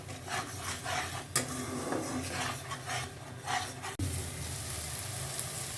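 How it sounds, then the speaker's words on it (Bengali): Ginger and onion paste frying together in a pan, giving a soft, dry rasping sizzle with scraping stirs and a couple of sharp knocks of a spoon, close and fairly quiet, with no talking. "এবার আদা পেঁয়াজ একসাথে কষিয়ে নেব"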